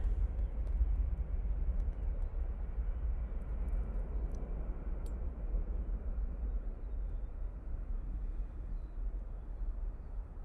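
Boeing 737 Max arriving at Manchester Airport: a steady, broad, low roaring rumble from a distant jet that holds at an even level throughout, with no voices and only a few faint clicks.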